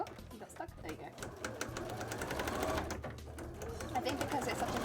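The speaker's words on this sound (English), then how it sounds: "my sewing machine doesn't even realise that it's there" A home sewing machine stitches thin material for a cosplay headpiece, its fast, rapid needle chatter running steadily and close, with a person talking over it.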